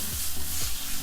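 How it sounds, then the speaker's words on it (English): Sliced pears sautéing in coconut oil in a pan on a stovetop, with a steady, close sizzle and a brief stirring shuffle, no talking. "Our pears are sizzling away in here."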